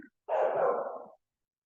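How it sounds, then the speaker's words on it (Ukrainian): A single drawn-out dog bark, fairly close and clear, standing alone against silence. "твій пес нам про це повідомляє чути песика"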